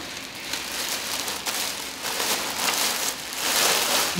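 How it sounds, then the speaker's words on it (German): Rain falling outside in Salzburg: a steady broadband hiss of drops on a surface, moderately loud and continuous, swelling slightly toward the end with no talking. "Es regnet draußen"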